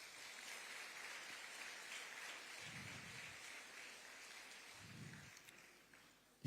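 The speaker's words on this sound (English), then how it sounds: "Give them a round of applause." Audience applause at a seminar on gender equality and climate justice, a steady distant patter of many hands clapping throughout, with a couple of low thumps.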